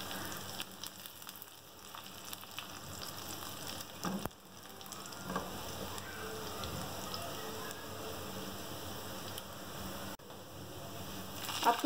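Cumin seeds and round dried red chilies frying with golden onions in hot oil, a soft steady sizzle with faint crackling throughout, no voices.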